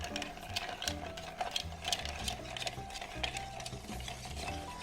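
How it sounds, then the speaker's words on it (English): A Reverse Manhattan cocktail with rye whiskey being stirred over ice, giving a steady close rattling and clinking of ice against the glass that continues evenly throughout. "Give it a nice stir down."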